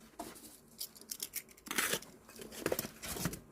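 Close-up tearing and crinkling of packaging as a succulent pot is ripped open, with a dense run of ragged rips and rustles, the loudest bursts in the second half, without talk.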